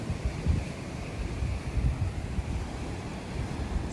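Surf and wind at Es Canar beach produce a constant low rush with gentle swells of louder wave wash and mild wind rumble on the microphone; no voices.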